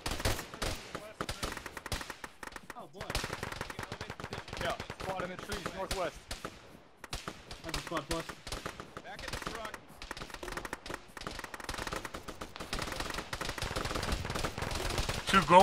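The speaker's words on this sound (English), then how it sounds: "There's an RPG firing from the rocks in the woods." Dense, continuous gunfire with rocket launches in an ArmA military firefight in wooded, rocky terrain, rapid automatic bursts and single shots crackling nonstop at varied distances throughout.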